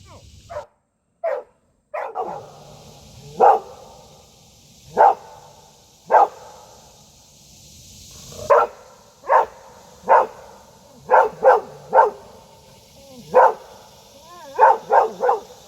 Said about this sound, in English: Good dog. Way to protect the boat.